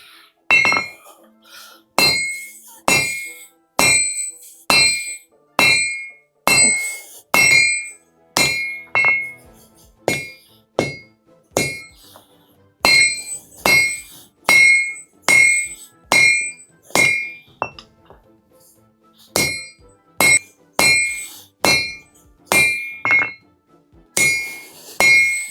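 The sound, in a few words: forging steel with a 5.5 kg sledgehammer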